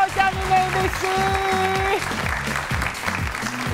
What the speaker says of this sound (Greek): Οι πρώτοι που χειροκροτάνε είναι οι συνεργάτες μου.